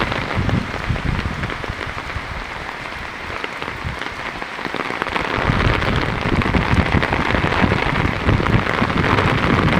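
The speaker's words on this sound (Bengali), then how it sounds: "চলে চলে যাচ্ছে সুন্দর বৃষ্টি" Rain falls hard and steady nearby in a village, a thick hissing patter that grows slightly heavier partway through.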